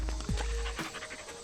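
A dog pants on a hiking trail in a state park, quick breathy puffs close to the microphone, mixed with rustling and a low rumble at the start.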